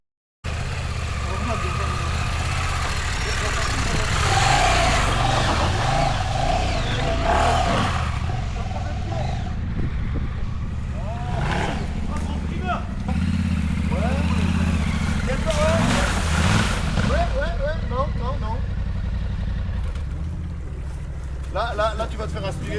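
A Yamaha TT-R trail motorcycle revs under throttle on an off-road ride near Carcassonne, its engine droning loudly and surging in waves throughout, with people talking over it.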